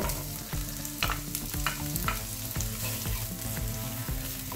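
Onions fry in about two tablespoons of oil in a pan on the stove, giving a steady close sizzle and crackle broken by frequent stirring clatters and scrapes.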